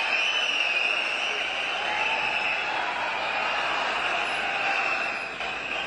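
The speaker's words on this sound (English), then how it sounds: "The crowd is going crazy." Large crowd cheering at the swearing-in ceremony of C. Joseph Vijay as Tamil Nadu Chief Minister, a steady loud roar of massed voices that holds for the whole stretch and dips slightly near the end.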